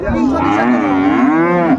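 A cow moos loudly and steadily at a busy rural cattle market selling dairy cows and calves in Raniganj, Dinajpur, one long drawn-out call close by with no talk over it.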